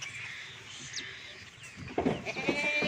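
Goats and kids in Faisalabad bleat while being loaded onto a cargo vehicle, with a few nasal cries over shuffling and handling noise and a louder burst near the end.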